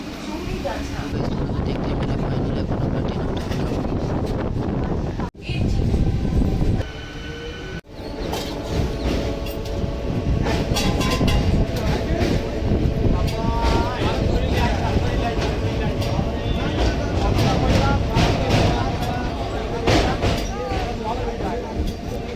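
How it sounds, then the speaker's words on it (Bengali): Inside Chowrigachha railway station, a train rumbles loudly and continuously with clattering wheels and squealing rails, a brief louder burst midway, and people talking underneath. "এখন আমরা চলে আসলাম চৌড়িগাছা রেল স্টেশনে"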